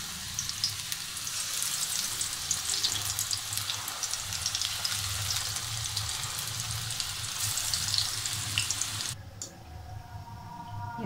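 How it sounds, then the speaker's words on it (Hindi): Potato and onion pakoras deep-frying in hot oil, a dense, loud, crackling sizzle with many tiny pops that holds steady and then drops sharply near the end to a quieter hiss. "ऑयल हमारा गर्म हो चुका है। डीप फ्राई के लिए हमने इसको लैस हो रही पकौड़े बनाते।"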